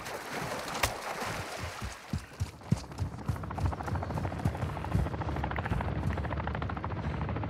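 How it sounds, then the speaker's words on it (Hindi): A helicopter in Call of Duty: Modern Warfare II DMZ beats with a rapid, rhythmic rotor chop over a low engine drone, fairly close and steady throughout with scattered thuds of movement. "यहाँ हेलीकॉप्टर।"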